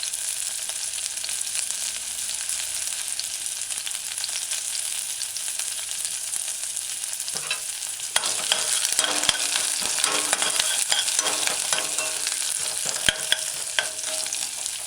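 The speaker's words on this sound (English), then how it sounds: "you want the onions to saute and have a slightly golden color around the edges" Onions sauté in a pan on medium-low heat with a steady soft sizzle, joined midway by louder stirring and scraping of a utensil.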